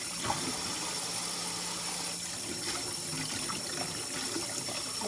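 Green beans being washed under running tap water, a steady moderate stream with light splashing and trickling.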